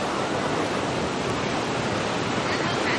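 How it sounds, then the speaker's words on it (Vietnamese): Large waves break continuously on the beach at Vung Tau, Vietnam, a dense, steady roar of surf filling the whole stretch at close range with no pauses between swells. "Này sóng lớn quá, sao tắm?"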